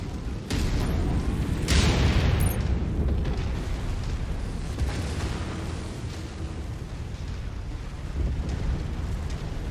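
Missile explosions in a combat video game: a broad, loud rumbling blast rises after half a second and peaks around two seconds, then a sustained roaring wash of debris and fire carries on to the end.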